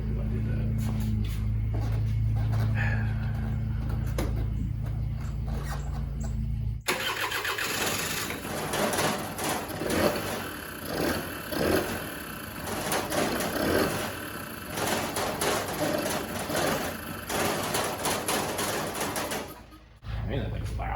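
A 1984 Honda Aero 125 scooter engine cranks briefly, catches at about seven seconds, and then runs loud and steady with an uneven, busy idle until it cuts off near the end.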